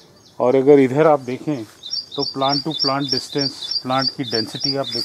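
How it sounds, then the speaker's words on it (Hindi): Birds chirp in a quick repeated high pattern in the background on a Punjab farm while someone speaks in the foreground over them. "जो बैकग्राउंड में आपको ये चिड़ियों की चहचहाट"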